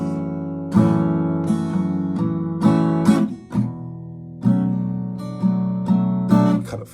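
Acoustic guitar strummed in a repeating chord pattern for a song, a hammer-on on the second downstroke, about six close, clear strum groups in a steady rhythm with no voice.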